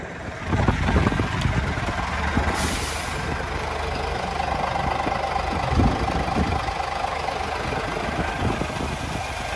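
A truck's air handbrake is released during truck driver training, with a sharp hiss of escaping air over the steady idle of the heavy diesel engine.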